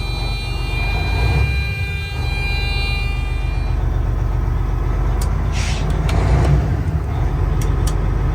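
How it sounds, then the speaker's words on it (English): A truck with a Detroit diesel engine running its Jake brake, a loud, close, steady low rumbling rattle of engine compression braking that swells slightly in the second half, with occasional faint clicks on top. "Oh, you call that a Jake brake?"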